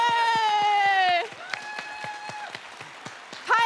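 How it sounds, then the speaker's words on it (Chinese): A television talk-show studio audience claps in quick, distinct beats to welcome a guest, with a long sustained tonal sound over the opening second before it cuts off and the clapping carries on more thinly. "我们掌声欢迎吴佳玉"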